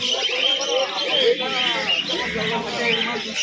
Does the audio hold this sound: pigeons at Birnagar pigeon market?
yes